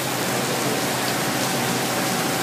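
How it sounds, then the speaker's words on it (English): Steady, dense rain falls in Singapore, a continuous close hiss of drops with no pauses and no voices. "This is real rain."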